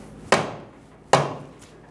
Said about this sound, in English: use a soft face hammer and hit it.